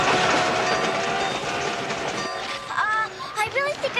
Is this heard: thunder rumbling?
no